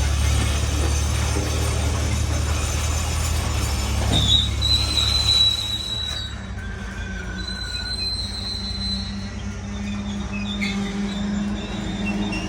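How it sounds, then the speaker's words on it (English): A train in Greenville, South Carolina, slowing to a complete stop near red signals, its wheels squealing in long high tones over a steady low rumble of railcars, heard fairly close with no talk. "The train is coming to a complete stop now."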